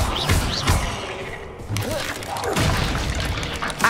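A Confringo fire spell in Hogwarts Legacy, played in a catacomb, goes off as repeated thumping blasts with crashing debris over a dense, echoing game soundscape.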